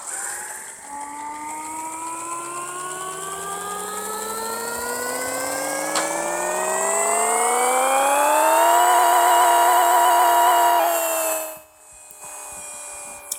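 A high-horsepower LS-swapped land-boat of a car in Pixel Car Racer, a video game, revs on its two-step, engine pitch climbing steadily to a held limiter drone before cutting off abruptly, loud and close.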